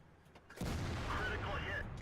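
A tank cannon fires in World of Tanks on the Redshire map, a sudden heavy boom after a brief quiet, followed by a long rumbling decay.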